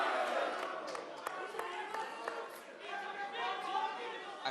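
Crowd murmur at a Carl Frampton versus Scott Quigg boxing media tour, a steady, fairly faint wash of overlapping chatter with a few louder voices popping out.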